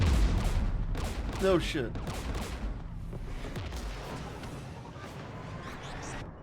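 Bursts of gunfire in Mass Effect 3 combat, loud rapid shots at the start fading into sustained background rattle, with someone speaking over them.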